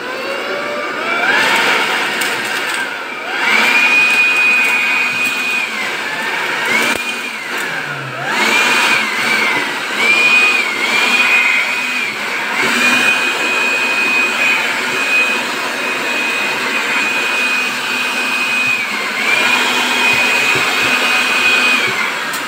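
A Keelat electric blower vacuum whirs loudly and continuously with a high whine, its pitch wavering slightly as it runs close by.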